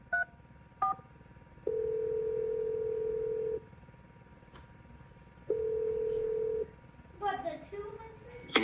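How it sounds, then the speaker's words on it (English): A phone number being dialed: a couple of short touch-tone beeps, then two long steady tones a few seconds apart, followed by a brief warbling ring-type signal, clear and close over quiet background hiss. "I'm going to dial his phone number right now, so hopefully he picks up"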